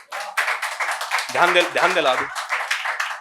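Steady clapping from an audience at a Hindi poetry recital runs throughout, while someone speaks over it briefly.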